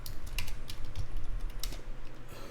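Rapid clicking keystrokes on a computer keyboard, an uneven burst of close, crisp taps with a few short pauses, heard alone.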